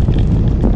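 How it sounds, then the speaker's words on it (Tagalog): Wind rushes over a moving bicycle rider on a long road trip, a loud, steady, low buffeting roar for a brief moment. "Sarap ng hangin."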